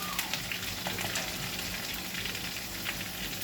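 Cashews sizzle in hot oil alongside chillies and curry leaves for katte pongali, a steady crackling fry with occasional pops at close range, no talk.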